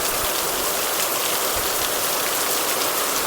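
Heavy unseasonal rain pours steadily in a village, a dense, constant hiss of downpour close by with no voices.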